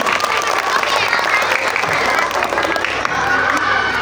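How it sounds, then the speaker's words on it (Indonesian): Lively applause and crowd noise fill a school madrasah arts and scouting competition, a dense sustained clapping close by with cheering mixed in. "Berikan tepuk tangan yang meriah."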